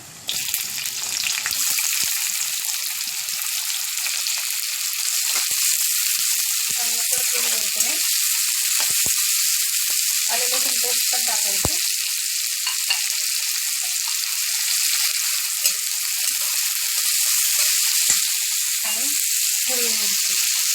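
Mustard seeds, cumin and plenty of onion sizzle in hot oil for a vada pav filling, a loud, steady crackling hiss with brief stirring scrapes and pops.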